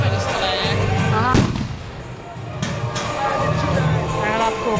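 At a medieval battle reenactment at Visegrád, bursts of massed gunfire crack out with sharp volleys near the start and again later, over a continuous rumble of crowd noise and an excited commentator shouting throughout.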